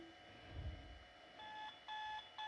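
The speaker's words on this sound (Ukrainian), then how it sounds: "Будильник." A video game electronic alarm clock beeps in repeated short bursts, with a low thud just before, set against a quiet hum.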